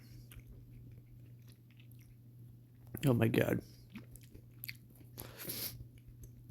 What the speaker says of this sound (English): I just started chewing gum right before this, so you're gonna hear me chewing